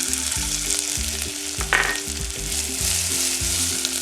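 Chopped onion sizzles and crackles in a hot pan as the base of a pineapple mango sauce, a dense steady frying hiss with a rhythmic clatter of stirring underneath. It is close and continuous, with no voices.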